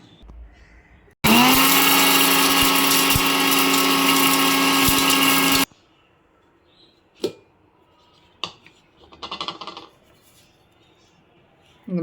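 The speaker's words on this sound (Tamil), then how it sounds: "இதை முதல்ல நம்ம வந்து மிக்சியில் கொஞ்சம் குறை குறப்பாக அரைச்சி எடுத்துக்கலாம்" A kitchen mixer grinder coarsely grinding drumstick leaf chutney roars loudly and steadily for about four seconds, then cuts off, followed by a few faint clicks and handling sounds.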